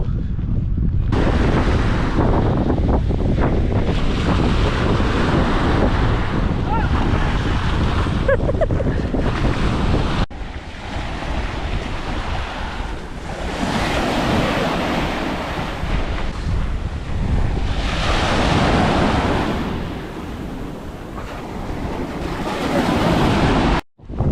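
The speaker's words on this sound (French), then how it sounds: "On est sur une plage très très belle." Waves break and wash along a beach at Ouistreham in Normandy, loud and close, with heavy wind buffeting the microphone in a continuous roar.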